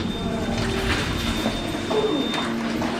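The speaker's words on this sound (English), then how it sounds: "Doors opening." Old Otis lift doors on a 3rd floor, modernised with DMG buttons, slide open in a steady mechanical rumble with a faint high whine, close and continuous.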